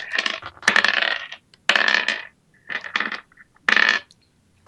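Dice rattle and clatter across a tabletop near a computer during a tabletop role-playing game, in four separate rolls, each a loud, bright, close burst followed by short silences.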